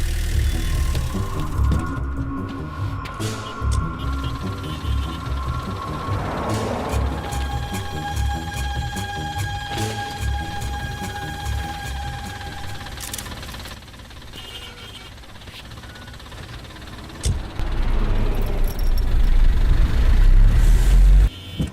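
A bus engine runs in a Hindi-dubbed South Indian action movie scene, a steady low droning rumble that hums along throughout and briefly swells louder near the end.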